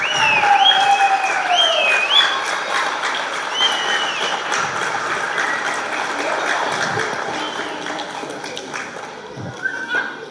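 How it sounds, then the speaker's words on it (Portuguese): Crowd applause at a Youth Cup event ceremony in Fornos de Algodres, a dense continuous clatter of clapping that stays moderately loud and gradually eases, with voices mixed in. "Portanto, uma salva de palmas."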